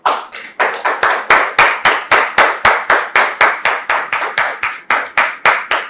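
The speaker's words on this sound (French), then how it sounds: "Nous recevons le pasteur sous vos applaudissements" Rhythmic clapping to welcome a pastor at a church gathering, about two claps per second in an even beat, crisp and close, lasting several seconds without talk.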